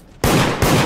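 Loud, close gunfire in the video game Deceit: two abrupt blasts in under a second, the second coming quickly after the first.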